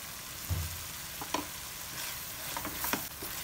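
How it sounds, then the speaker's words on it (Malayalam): Curry leaves hit hot frying masala for a pearl spot fish dish, setting off a steady close sizzle with a few stirring scrapes and clicks from the pan. "ഇനി നമുക്കിതിലേക്ക് കുറച്ച് കറിവേപ്പില കൂടെ ഇട്ട് കൊടുക്കാം"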